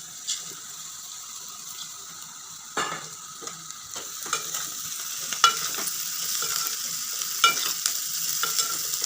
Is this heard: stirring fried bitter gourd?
yes